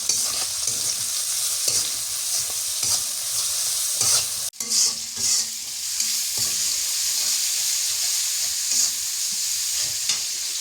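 Chili frying in hot oil sizzles and spatters continuously, with stirring clatter and a sharp metallic knock partway through, close and loud.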